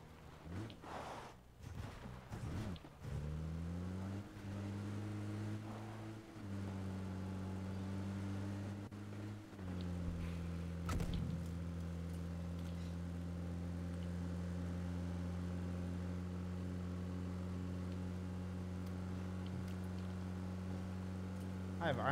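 A moving vehicle's engine in the PUBG game hums with a steady low drone that shifts pitch a few times early on and then holds constant, with a faint background of other game sounds.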